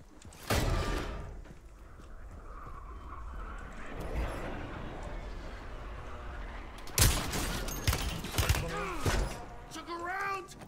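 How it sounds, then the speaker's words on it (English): Gunfire in Warzone crackles in sharp bursts: an early volley, then dense, loud shots near the end, with rumbling game ambience and voices talking in between. "Oh, they're shooting you."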